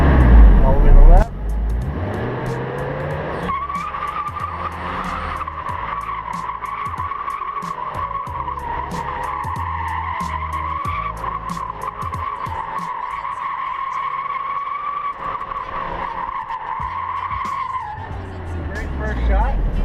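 A car drifts in controlled donuts around a cone, with a steady engine roar and loud sustained tire squeal for most of the span, close and continuous with no talking.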